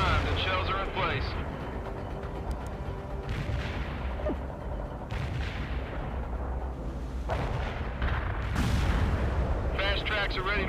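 Tank main guns and artillery firing in World in Conflict, a string of heavy booming blasts with rumbling tails spread across a busy battlefield, with radio-style voices talking over parts of it.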